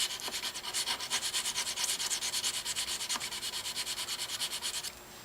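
A steel knife blade is drawn back and forth across a sharpening stone, producing a steady, rhythmic rasping scrape of many even strokes that is close and fairly loud, then stops abruptly near the end.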